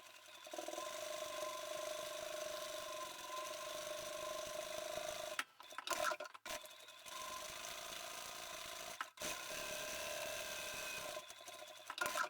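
A sewing machine runs in steady bursts while stitching down the long edge of a fabric tube for a key fob, motor whirring continuously with a few short pauses between runs, close and alone without talk.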